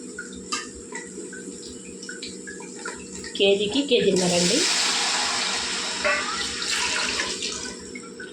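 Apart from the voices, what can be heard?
water being poured into pot for mutton dum biryani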